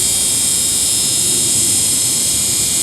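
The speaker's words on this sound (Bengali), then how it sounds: "একবার সাউন্ডটা শোনো ঝিঝি পোকার।" Crickets in a large tree drone in a loud, unbroken high-pitched buzz, dense and steady throughout, with faint low background rumble beneath.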